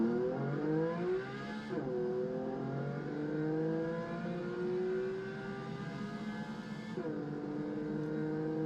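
A race car in a video game accelerates hard, engine pitch climbing through gears with sharp drops at each shift, loud and close, repeating in a second full rev sweep.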